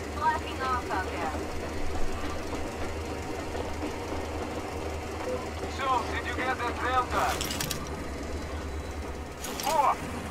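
A locomotive engine in Metro Exodus runs with a steady low rumble and rhythmic knocking throughout, while a voice talks briefly over it.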